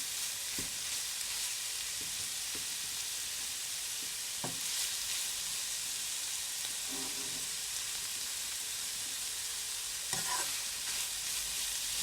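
Seasonings stirred into patty filling in a hot pan: a steady background sizzle with occasional soft spoon knocks and scrapes spaced several seconds apart.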